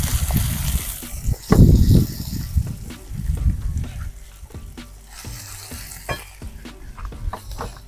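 Onions fry in a pan over a small gas stove while camping, with a steady sizzle and scraping stirs that bunch into a loud burst, then lighter clinks and stirring strokes close by.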